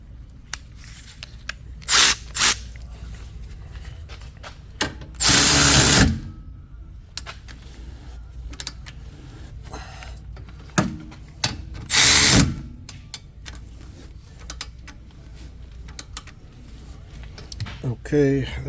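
Power tool or impact gun tightening 17 mm brake caliper bolts on an Acura RDX rear brake job, loud bursts near 5 and 12 seconds among shorter mechanical clicks and rattles, with talk in between.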